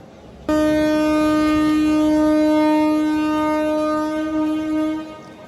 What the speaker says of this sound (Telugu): ఎగ్జాక్ట్లీ వందే భారత్ వెళ్ళిన 4 minutesకి మన బండి అయితే బయలుదేరింది.